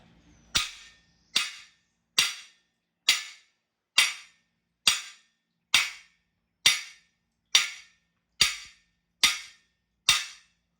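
Hammer striking an engine part while a 1968 Chevrolet C10 short block is assembled: about a dozen crisp metallic blows at an even pace, close and loud with no talk.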